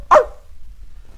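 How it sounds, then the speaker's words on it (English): A fox gives one sharp, close bark near the start, then fades into a quiet background hum. "You can tell from my bark that I'm a very kind and helpful fox"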